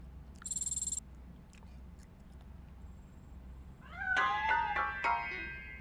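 A cat meows from inside a piano in the RoboCop: Rogue City video game, a short run of clear, rising-and-falling mews near the end after an earlier sharp electronic beep and quiet room tone.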